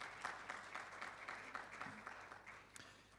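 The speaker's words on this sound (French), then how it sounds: "Et je pense qu'on peut quand même applaudir Elena pour cette intervention." Conference attendees applaud a speaker, a faint, distant patter of scattered clapping lasting a few seconds.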